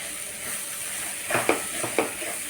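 Raw mango chutney being stirred with cumin powder and spices in a pan, with a steady soft hiss and a few distinct scraping, clinking stirs of a spoon against the vessel.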